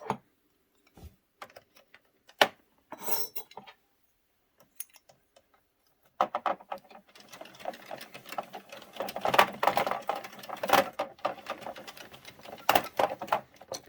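A hand-cranked Sentro knitting machine knitting a scarf clatters and whirs in rapid, uneven bursts, starting sparse with pauses and then running steadily louder and denser.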